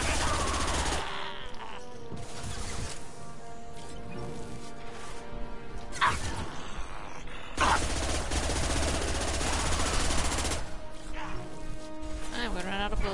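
Weapons fire in a Mass Effect 2 combat scene, with bursts of rapid shots and crashing impacts that come and go over several seconds amid a dense battle din.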